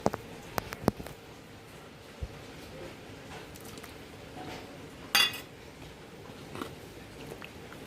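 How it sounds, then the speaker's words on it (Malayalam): Pieces of fish dropped into a simmering curry in a pot, soft wet plops and a few sharp clinks of utensil against the vessel scattered among quiet kitchen background. "നമുക്ക് ഇതിലേക്ക് മീൻ കഷ്ണം ഇട്ട് കൊടുക്കാം"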